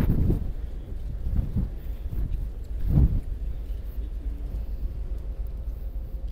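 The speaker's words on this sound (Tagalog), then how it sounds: "Kay ang hangin super." Strong wind buffets the microphone outdoors in Tallinn, Estonia, during a winter Christmas trip, a steady low rumble with a few heavier gusts, loud and close throughout with no clear talk.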